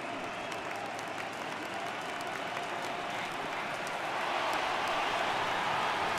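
Baseball stadium crowd in MLB The Show 18 during a Red Sox at Astros playoff game, a steady loud roar of cheering and applause that swells louder near the end, with no talk.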